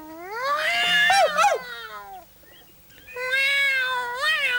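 Seema the cat lets out two long, loud, wavering yowls close by, with a short quiet gap between them and no other voices.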